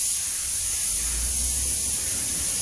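Spray coating hissing steadily onto the rusty wheel arch of a Ford Fiesta MK7, a continuous close broadband spray held without pause and with no talking.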